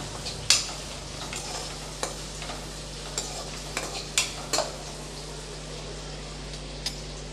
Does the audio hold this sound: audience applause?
no